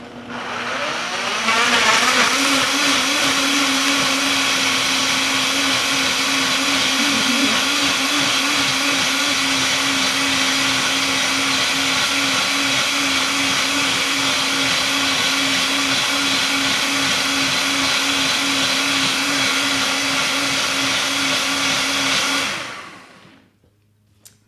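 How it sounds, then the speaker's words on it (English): Blender whirring through a mango ginger smoothie, a loud steady motor whine that starts abruptly, holds for about twenty seconds with slight pitch wobble as contents churn, then cuts off. "we're gonna put them in the blender and turn this baby on and see what it can do"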